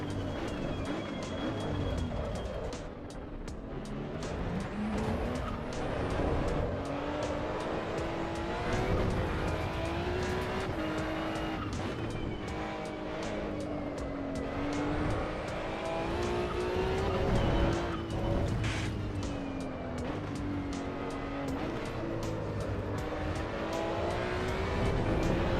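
A race car in the sim racing game Assetto Corsa EVO during an online race, its engine note whining and climbing then dropping through gear changes, with brief tire squeal, loud and continuous with no talking.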